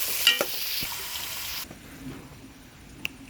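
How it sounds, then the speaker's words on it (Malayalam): Small chopped onions sizzle and fry in a pan while being stirred, with a louder burst of sizzling early on that then settles to a quieter, steady hiss marked by occasional spoon scrapes. "ഞാൻ അത് ചെറുതായി അരിഞ്ഞത് ചേർത്ത് കൊടുത്തു"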